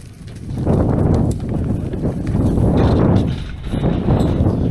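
A group of cows moving through a gate on a Welsh farm in Radnor, hooves thudding and shuffling close by in irregular bursts, with heavy footfalls rising and falling.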